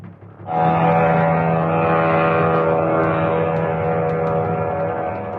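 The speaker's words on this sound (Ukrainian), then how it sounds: "На відео чергова масова атака російських шахедів." A loud, droning Shahed attack drone engine buzz starts abruptly and holds steady, a constant nasal hum close by with no talking.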